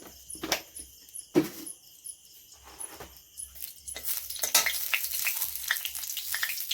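Bay leaf dropped into hot oil in a pan for an egg and pointed gourd curry, giving a soft crackling sizzle that starts in brief bursts and builds into a steadier, brighter fry toward the end.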